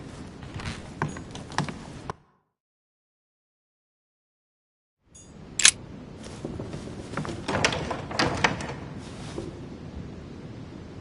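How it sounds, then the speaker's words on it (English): A locked door in a video game rattles and clunks in a burst of wooden knocks, falls silent for a few seconds, then clatters again with a sharp bang and further rattling. "The door appears to be locked on the other side."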